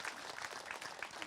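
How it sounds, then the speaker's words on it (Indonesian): A women's group at an Islamic study gathering claps as an audience, a brief, soft, steady patter of many hands at a distance. "tepuk tangan dulu dong"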